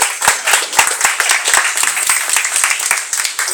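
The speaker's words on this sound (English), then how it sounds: "Let's have a round of applause for Walter." An audience applauds in a hall with sharp, dense clapping from many hands. The applause is loud and continuous throughout, with no voices over it.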